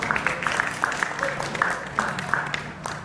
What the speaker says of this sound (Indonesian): Tepuk tangan buat teman-teman semua.